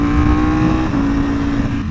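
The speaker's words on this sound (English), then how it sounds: "The deep bikes like this one, similar like the Aprilia as well, which are the V4 engines typically, they're a little deeper sounding" A 1000cc V4 motorcycle engine holds a deep, bassy idle-to-rev drone, loud and close, with a steady low hum and a brief dip near the end; no talking.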